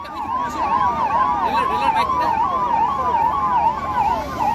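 Ambulance sirens wail at a train accident site involving the Kanchanjunga Express near Sealdah, a steady rising-and-falling wail repeating loudly and continuously over faint background noise.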